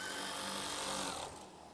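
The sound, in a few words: sewing machine stitching fabric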